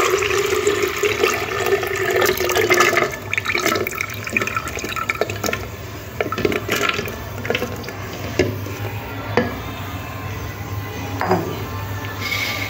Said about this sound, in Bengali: এরপরে এই যে মিক্সিং জারের মধ্যে ঢেলে নেব।